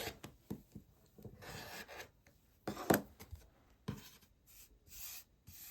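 Quilting fabric trimmed along its sides with a cutter against a ruler on a mat, a few scraping and rasping strokes with short pauses between them, close and quiet.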